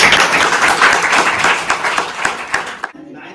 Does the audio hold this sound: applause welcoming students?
yes